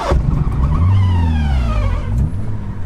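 A car engine drones steadily under load at about 50 km/h, its pitch sweeping and shifting as it is shifted into reverse mid-drive, with tyre and road noise throughout.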